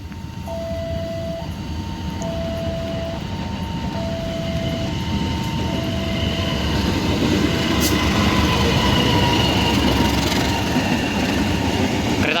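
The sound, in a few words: Ranggajati train passing by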